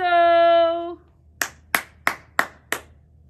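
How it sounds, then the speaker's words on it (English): Five sharp hand claps in a steady, slightly uneven rhythm, loud and close, following a sustained sung or hummed tone that ends before the claps begin. "Are you going to give 5 claps to everybody?"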